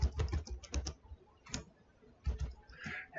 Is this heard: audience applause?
no